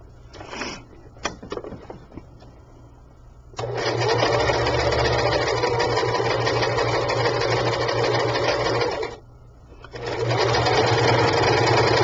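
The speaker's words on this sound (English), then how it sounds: "we're going to do a running, straight stitch all the way down" Sewing a straight running stitch on a handmade shabby chic sachet bag, the machine whirs loudly and steadily up close, pauses briefly, then resumes its even motor hum after a few faint handling clicks.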